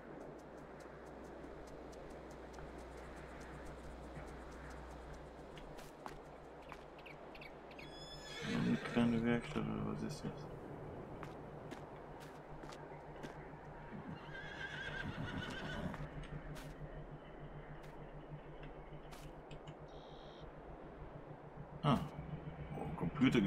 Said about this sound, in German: Oh, Pferde haben wir auch noch.